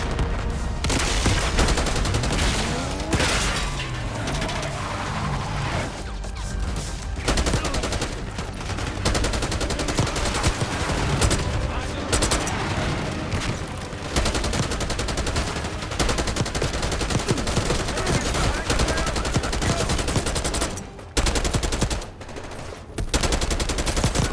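Sustained Call of Duty: Black Ops 6 firefight at a palace gate, with overlapping machine-gun bursts and rifle volleys, loud and nearly unbroken, with a brief lull near the end.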